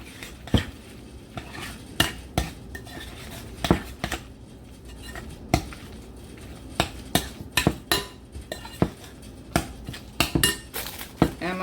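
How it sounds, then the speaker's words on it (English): Utensil scraping and clinking against a bowl while stuffing for porterhouse pork chops is stirred, with irregular clacks and taps over about twelve seconds, close and moderately loud, with no talking. "Stir that up."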